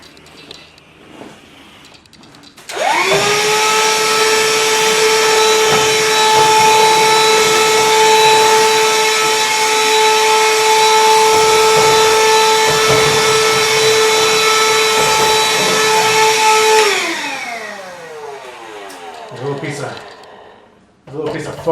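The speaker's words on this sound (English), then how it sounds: "Let me just vacuum it one more time." A vacuum cleaner, cleaning a Mercedes-Benz SL600 R129 during a hood pad change, whirs up loudly, runs at a steady high-pitched roar for about fifteen seconds, then winds down as the motor stops.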